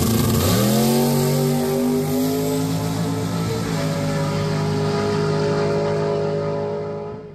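Big block Chevrolet engine on a 4,100 pound nitrous drag truck, a loud sustained rev with strong steady harmonics that climb sharply at first, then hold and slowly fade toward the end, with no talk over it.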